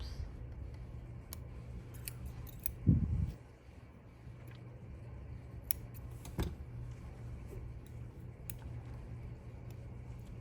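Scissors snip mink fur while trimming the muzzle of a teddy bear made from a fur coat, giving a few faint, sparse clicks over a low steady hum, with one louder rustle near the start.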